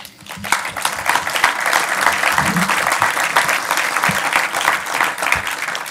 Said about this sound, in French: je crois qu'on peut applaudir Vincent